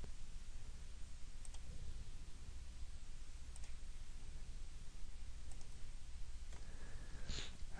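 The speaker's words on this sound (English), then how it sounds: "I'm just left clicking to add these segments in." Left clicks on a computer mouse during 3D modeling work, heard as a few sparse, faint, crisp clicks spread out over a soft, steady background hiss.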